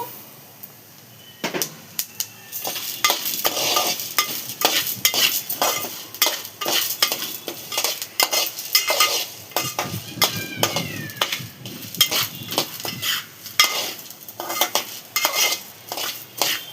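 Coriander seeds and lentils are dry-roasted on a low flame, a dense run of rapid metallic clinks and scrapes from a spoon stirring in a pan, close and busy, with no talking.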